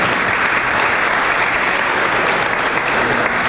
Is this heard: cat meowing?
no